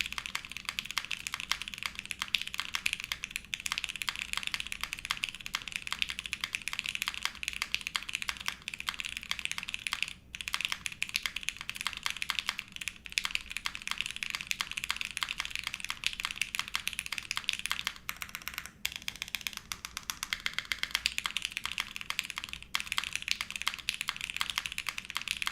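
Rapid, continuous typing on an Enter67 v2 mechanical keyboard, with dense, even keystroke clatter held close and loud for the whole stretch, broken only by a few brief pauses.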